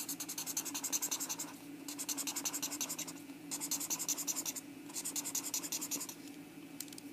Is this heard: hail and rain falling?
no